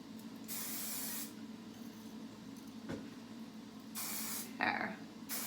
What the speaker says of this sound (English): Always shake your products there. So we are just gonna spray.